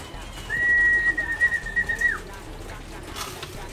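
A pigeon being fed gives a single soft, drawn-out coo close by, over a steady outdoor background hum.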